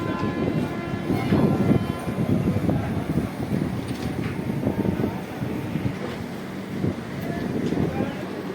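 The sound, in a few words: Chhapra Express passenger train departing railway station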